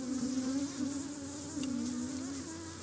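Honeybees buzzing around an open beehive frame, a dense, continuous droning hum close by with wavering pitch as individual bees pass, steady and loud without talk.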